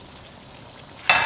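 Shrimp for a stovetop seafood boil dropped into a hot pan, with a quiet background that bursts into a sudden loud sizzle just before the end.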